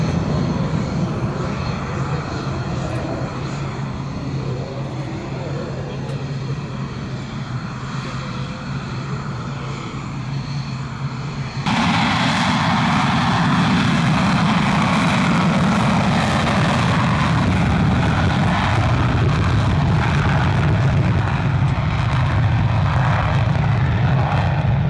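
Propeller airplane flying at an airshow, a steady loud engine drone that swells sharply halfway through as the aircraft draws closer and passes, continuous with no talk.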